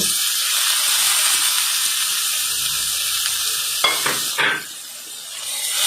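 Onion and tomato sautéing in a pan for Kolhapuri misal give a steady, close sizzling hiss, with a few scraping stirs and a brief flare of sizzle near the end; no voices.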